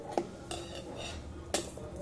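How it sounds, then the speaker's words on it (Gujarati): Yoghurt and sugar stirred together in a bowl with a spoon, a few distinct clinks of metal against the bowl spaced about a second apart over a soft, quiet mixing background. "હવે આપણે દહીંને મિક્સ કરી દઈએ છીએ."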